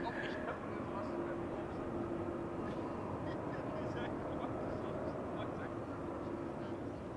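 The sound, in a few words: KLM aircraft landing with loud thrust reverser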